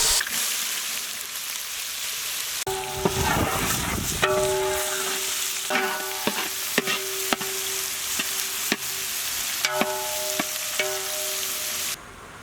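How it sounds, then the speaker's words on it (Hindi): Chopped onions, mustard seeds and curry leaves frying in hot oil in a big pot for a fish curry; a loud sizzle with stirring scrapes and sharp clanks of a spoon, going on steadily with no talk. "इमीडिएटली हम लोग इसमें फाइनली चॉप्ड ऑनियंस ऐड करेंगे।"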